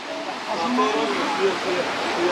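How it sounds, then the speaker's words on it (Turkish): A small waterfall in Erfelek Tatlıca canyon, Sinop, gives a steady, close broadband rush of falling water, with a person talking over it throughout. "Karşıda küçük bir şelale ta var."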